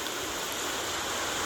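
Rain falling steadily outdoors, a dense even hiss of drops with no breaks, moderately quiet.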